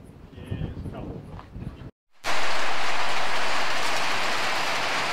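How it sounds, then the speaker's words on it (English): Voices and faint sounds give way after a brief silence to a sudden, steady roar of heavy rain from a passing storm, loud and constant to the end. "here comes the rain"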